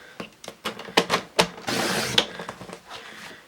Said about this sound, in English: So I'm going to use my big trimmer here.